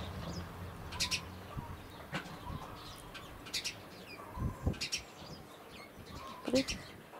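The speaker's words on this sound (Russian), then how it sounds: "Воробьиные посиделки." Morning sparrows chirp in short scattered bursts while bathing, with brief splashes and wing flutters in between, fairly close amid quiet background noise.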